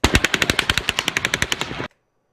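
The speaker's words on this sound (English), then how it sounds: "I counted these shots here that we see, these sharper shots" A rapid burst of gunfire from the Route 91 Las Vegas shooting, roughly fifteen sharp shots in quick even succession, stopping abruptly into silence.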